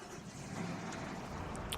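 Engine of an old Series 4 Scania truck in Euro Truck Simulator 2 hauling a load from Birmingham to Manchester: a steady, faint low drone of the diesel running at constant speed, with no talking.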